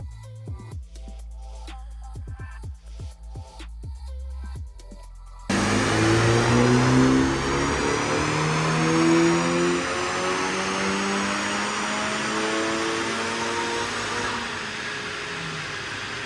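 A Honda Civic Type R FL5 with an upgraded turbo accelerates hard after a quieter opening stretch, its engine note rising loud and steady through the gears for most of the clip.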